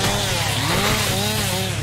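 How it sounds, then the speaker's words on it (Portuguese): Chainsaw in a post-apocalyptic survival video game, a loud, steady buzzing engine drone that wavers slightly in pitch and runs unbroken throughout, close and dominant with no talk over it. "Não, tem mais motosserra aí, ó."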